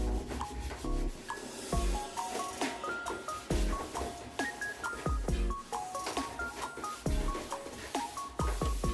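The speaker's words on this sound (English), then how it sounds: "now I'll just wipe over the whole thing with thinners" A rag soaked in MIPA V25 thinners rubbed over a Toyota Supra A90 engine cover, producing close, repeated scrubbing and rubbing strokes in an uneven rhythm, with no talking.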